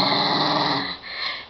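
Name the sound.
dog growling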